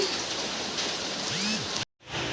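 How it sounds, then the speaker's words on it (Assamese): Steady rain falls outside a house, making a dense, even hiss throughout with a faint tonal whine partway through and a brief cut to silence near the end. "আহি পালোঁ মাৰ ঘৰ। বৰষুণ দি আছে,"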